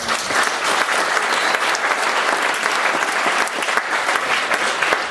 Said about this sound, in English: Can we just get one more round of applause?